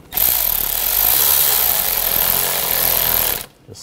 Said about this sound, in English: I'm gonna tighten down this worm clamp